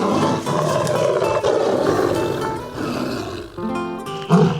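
A 400-pound tiger gives loud, rumbling roars and growls at close range, with rough, throaty bursts and short pauses between them.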